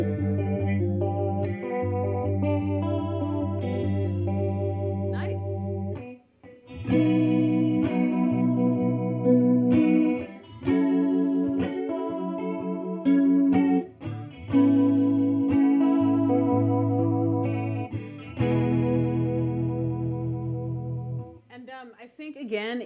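An electric guitar plays chords and riffs through a vintage 1980s effects pedal giving a warbly, chorus-like sound, with short pauses between phrases.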